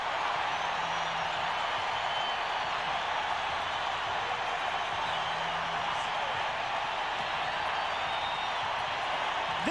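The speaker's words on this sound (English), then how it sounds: "This crowd is electric to start play as the Broncos get on the board first." A Broncos football stadium crowd roars steadily after a Denver touchdown, a dense, sustained wall of cheering noise with no breaks, under faint talk.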